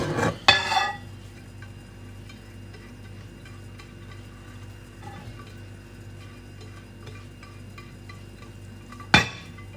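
Chocolate zucchini cake batter being stirred in a bowl: a steady, soft mixing sound runs throughout, with a couple of sharper knocks near the start and one near the end.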